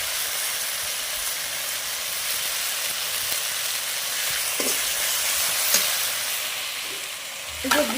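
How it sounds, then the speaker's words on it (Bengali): A spice paste sizzles and fries in hot oil for a jackfruit and prawn curry, a steady close crackle throughout with a few sharper spits and stirring knocks near the end. "মশলা আবার ভালোভাবে ভাজা হয়ে গেছে, এরকম মশলা থেকে কীরকম তেল বার হচ্ছে।"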